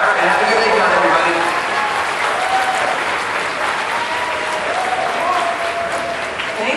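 A convention crowd at anime-con opening ceremonies applauds a panel, steady loud clapping and cheering that fills the whole stretch, with voices mixed in.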